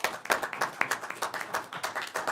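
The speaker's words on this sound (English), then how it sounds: "y'all are clapping because you're ready to go home" An audience at a city council meeting in Riverton, Wyoming claps in a steady, fairly close burst of many hands, sustained throughout with no talk over it.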